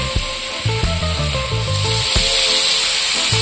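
Kebabs sizzle loudly in hot oil, a dense steady hiss with repeated low knocks and scrapes as the pieces are turned, growing slightly stronger toward the end.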